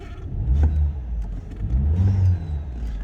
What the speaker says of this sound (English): I'll give it a little rev for you